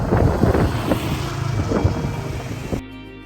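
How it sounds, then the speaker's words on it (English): Strong Meltemi wind blows on Naxos, Greece, buffeting the microphone with a loud, gusty roar and low rumble that cuts off abruptly near the end. "The Meltami Winds, they're doing their thing, giving us a bit of a breezy, carefree vibe."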